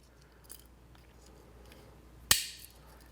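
Small scissors from a multitool kit give a single sharp snip close by, one crisp metallic click standing out against quiet room tone.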